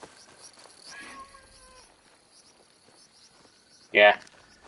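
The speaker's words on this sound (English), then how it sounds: "But there's a kitty." A cat meows once, short and fairly loud, in Assassin's Creed Shadows, rising suddenly over quiet game ambience and faint insect-like chirps near the end.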